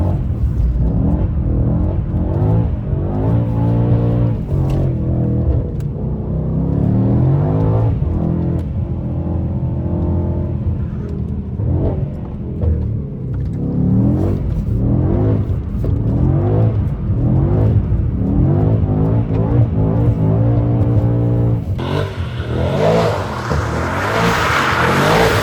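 A Mercedes E63S AMG is driven hard, its deep engine rumbling and surging through repeated rises and falls in pitch, loud and close, with no talking.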